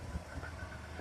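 A Honda Acty engine idles steadily nearby after its fuel injectors were cleaned and reinstalled, a low rumbling with slight uneven pulses and no voices.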